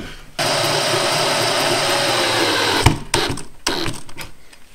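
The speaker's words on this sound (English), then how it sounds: "Let's go ahead and put a screw in that." A power drill whirs steadily as it drives a screw into a deep countersunk hole, then stops abruptly, with a few brief bursts of the drill and handling noise following.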